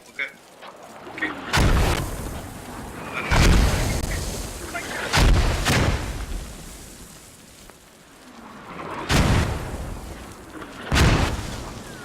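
Mortar rounds exploding in the military shooter game Squad, heard as five or six heavy booming impacts spaced a couple of seconds apart, each with a rumbling decay, over a low ambient background.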